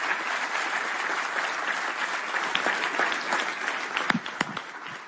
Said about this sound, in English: Give me another round of applause.